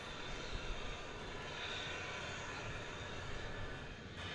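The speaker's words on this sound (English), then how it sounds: "You see an MD-11 there in the foreground. the three-engined cargo plane." Jet engines of an MD-11 three-engined cargo plane at DFW Airport make a steady, broad roar, loud and unbroken throughout with no talk over it.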